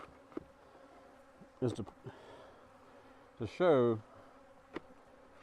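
Honey bees buzzing around an apiary hive with fresh foundation and no drawn comb, a faint steady insect hum under brief bursts of nearby speech.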